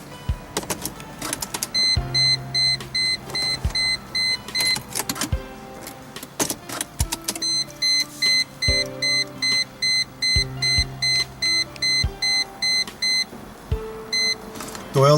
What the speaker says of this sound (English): Now we reset the oil light.